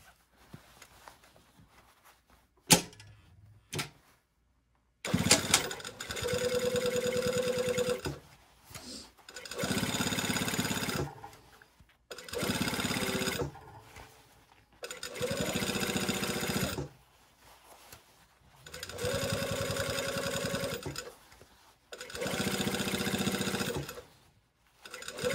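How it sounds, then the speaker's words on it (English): A domestic sewing machine top stitches the edge of a coat in several long, steady runs, whirring loudly and evenly, with short quiet pauses between passes. "we're just gonna go over here and do some top stitching"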